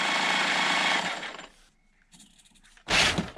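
An HB Toys ZP1001 1/10 scale RC Land Rover 110 Defender motor runs at full throttle with a loud, close high-pitched whine, then drops to quiet rattles before another short burst at full power.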